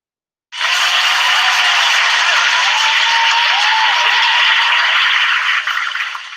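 Sustained applause from a crowd, a dense continuous clapping wash that starts abruptly, holds steady and loud for about five seconds, then begins to thin toward the end.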